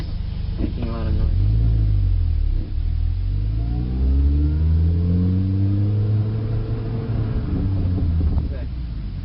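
A manual car's engine pulls away in first gear with a low rumbling rise in revs that climbs and holds, while a person talks over it.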